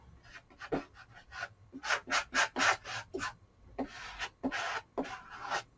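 A palette knife scrapes paint off a canvas in a run of rasping strokes, some quick and some drawn out, close and fairly loud, with a pause midway and no talking.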